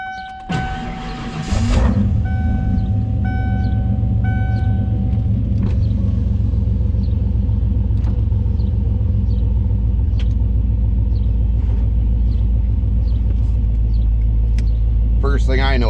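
A 1995 Ford F350 crew cab long box pickup with a 460 EFI V8 engine rumbles steadily as it pulls away and drives on, with a deep constant low drone after a few brief clicks at the start.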